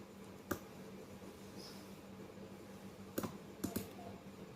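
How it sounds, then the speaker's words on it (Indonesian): A computer mouse clicks during copying and pasting while building a simple app in Microsoft Visual Studio: a few sharp, faint clicks, one early and a quick cluster near the end, over quiet room hiss. "Kita klik, kemudian klik kanan, kemudian kita pilih copy, klik kanan lagi, pilih paste."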